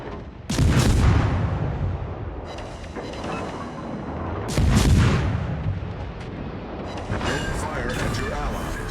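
Heavy naval guns boom from a battleship in World of Warships, two large blasts about four seconds apart over continuous game noise and rumble, with voices heard in the background.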